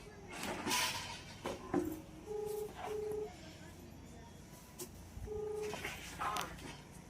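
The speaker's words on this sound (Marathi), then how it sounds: "शिवाला लावू फोन ते." A few short electronic tones from a phone keypad being dialed, spaced out amid quiet room noise and brief voices.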